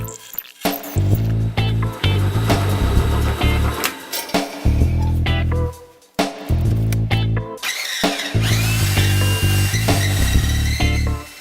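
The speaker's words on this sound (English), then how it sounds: "I had to drill some deep holes in the short rails for some screws" A power drill whines loudly in repeated long bursts, bogging and grinding as it bores deep holes into wooden workbench rails, with brief pauses between runs.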